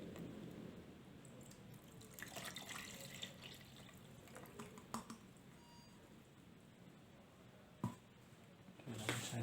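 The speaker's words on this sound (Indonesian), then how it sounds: "Lalu kita tuangkan larutannya." A chemistry solution is poured into a container for a refractive index experiment, giving a steady low trickling wash of liquid with a few soft knocks and splashes near the end.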